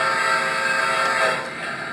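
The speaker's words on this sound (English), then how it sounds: "Whistle works." Train whistle sound effect played from a universal remote controller, a steady sustained tone held for about two seconds, fairly loud and alone with no talk over it.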